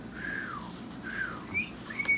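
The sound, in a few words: person whistling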